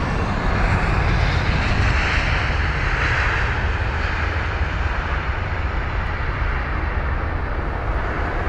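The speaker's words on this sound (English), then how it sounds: "We've got an aircraft entering the Virgin Atlantic hangars." A large airliner taxis at London Heathrow airport, its jet engines giving a steady, broad roar that holds even and moderately close throughout, with no voices over it.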